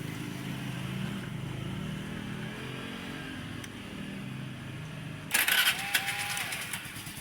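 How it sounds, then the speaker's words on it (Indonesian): A Honda Vario scooter engine starting on its electric starter, with a sudden loud mechanical cranking burst late on that catches into a running engine, over steady background rumble. "Coba Mas sekarang starter Mas."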